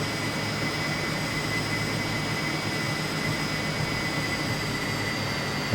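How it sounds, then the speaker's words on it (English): Steady jet engine roar of a McDonnell F2H-2 Banshee in flight in Flight Simulator 2020, a continuous broadband rush with sustained high tonal whine, even and unbroken throughout. "And we're airborne with our jet."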